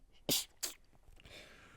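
Two quick sneezes burst out close to the microphone in a quiet podcast studio, sharp and breathy, followed by a soft exhale.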